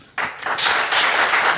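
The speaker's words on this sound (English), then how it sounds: "Have you ever heard 800 people clap before?" Roughly 800 people in a live podcast audience bursting into clapping all at once, a sudden loud, dense swell of applause that builds and holds.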